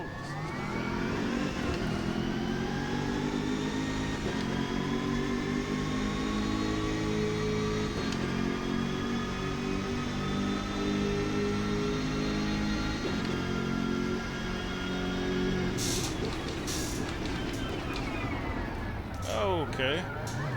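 A BMW GT race car in the sim racing game Automobilista 2 drones steadily at high revs, its engine tone shifting through gear changes, with brief sharp bursts near the end and talk over it at times.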